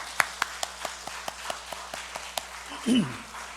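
A Korean church congregation claps to welcome newly registered members at a Sunday service: a sparse, evenly spaced run of distinct claps, fairly close, with a short voice near the end.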